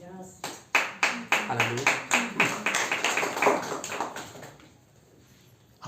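A church congregation claps in steady, rhythmic unison, with loud, sharp claps that slow and fade out near the end, while one voice calls out over them.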